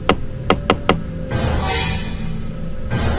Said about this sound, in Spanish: el herrero escuchó fuertes golpes en su puerta